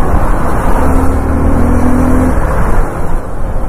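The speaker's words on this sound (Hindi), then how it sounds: "हैवी ट्रैफिक है सब जगह पर, देख सकते आप लोग" Heavy road traffic on a highway around Virar on a Sunday morning ride, a dense, loud wash of engines and tyre roar with a brief steady hum from one passing vehicle, continuous and close.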